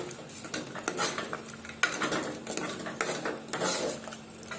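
A spoon works ginger-garlic paste into mutton curry in a metal pan, producing loud, close, rhythmic scraping and clattering strokes in quick repeated bursts with no talking.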